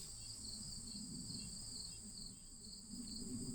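Insects trill in a vegetable garden planted with kale and collards, a steady, continuous high chirring that stays faint and even throughout.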